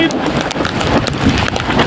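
Steady rain hisses loudly amid gusty wind from Cyclone Remal buffeting the microphone, a continuous stormy wash of noise.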